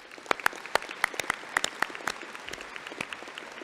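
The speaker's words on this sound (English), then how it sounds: "let's give him one more round of applause" Scattered hand claps from an audience at a 2018 university graduate commencement ceremony at Clarkson, with a dozen or so distinct sharp claps in an uneven rhythm that thin out toward the end.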